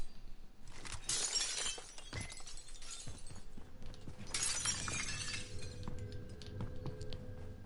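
Glass windows shattering in a video game, in two loud crashing bursts a few seconds apart, each with a bright spray of breaking glass and tinkling debris over a steady game background.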